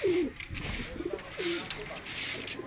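Pigeons coo repeatedly in soft, throaty rolls, several calls in a row over a faint hiss of background noise.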